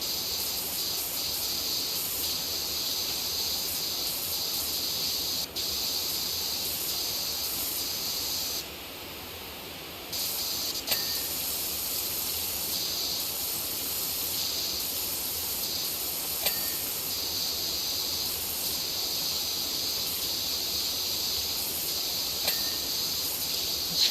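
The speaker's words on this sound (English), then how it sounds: "Sprayer's doing a pretty good job on this rock." Steady pressure-washer spray hisses against a rock in PowerWash Simulator, a loud continuous jet that runs almost unbroken, dipping briefly once partway through.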